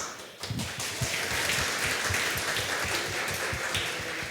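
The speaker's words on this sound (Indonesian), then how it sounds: "Sudah ada tepuk tangan." Audience applause at a church service during a sermon, a dense sustained clapping that swells early and holds steady throughout, fairly close, with no speech over it.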